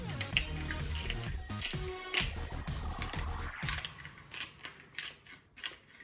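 Black pepper being ground by hand for chicken salad, a run of dry crackling, gritty crunches and clicks, fairly close and irregular, with no talking.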